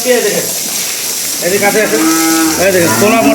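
A very large cow lets out loud, drawn-out moos, deep and resonant, rising over a steady background hum after a brief quieter start.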